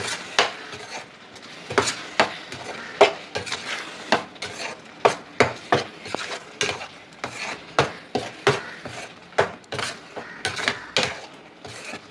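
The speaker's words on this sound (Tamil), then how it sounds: "நல்லா கிளறி கொடுத்துட்டே வாங்க." A spoon scrapes and stirs Indian gooseberry jam in a pan in steady repeated strokes with soft thick bubbling, close up, with no voices.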